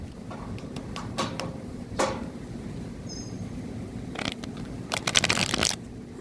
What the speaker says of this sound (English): And the last shuffle here.